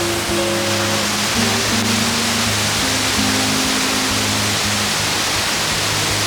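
Waterfall roaring loudly at a hiking spot, a dense, constant rush of falling water filling the whole clip without letup.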